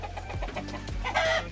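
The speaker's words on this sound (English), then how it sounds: "So these are the chickens." Backyard chickens cluck in short, irregular bursts close by, with a rooster-like call rising near the end, no talking.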